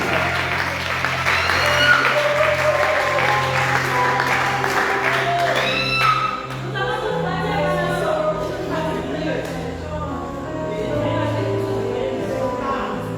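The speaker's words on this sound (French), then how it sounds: "Acclame Jésus." A church congregation acclaims Jesus with loud, sustained clapping and cheering that fills the room, and a voice or singing rises through it during the first half.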